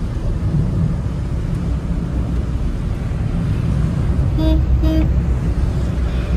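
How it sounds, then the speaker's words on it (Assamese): A car moves slowly through rain at night along a rough one-way road near the Assam–Meghalaya–Bangladesh border, with a steady wash of rain and road noise throughout and two short horn toots close together near the end. "এতিয়া বৰষুণৰ মাজে মাজে গৈ আছোঁ ৰাস্তাটো ভাল নহয়"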